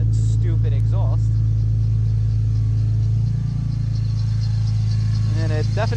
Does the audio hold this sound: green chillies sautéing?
no